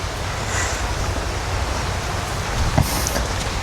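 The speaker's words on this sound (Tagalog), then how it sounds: "Medyo mahina na yung ulan." Light rain falling outdoors makes a steady, soft broadband hiss throughout, with a couple of faint knocks near the end and no voices.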